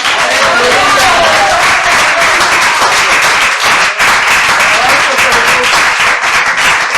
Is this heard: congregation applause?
yes